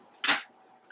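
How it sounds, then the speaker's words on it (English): A metal spatula scrapes and mixes liquid foundation on a small plate in one short, close scraping stroke, with quiet room sound afterward. "with this awesome little plate, I got a spatula, and we just mix it like this."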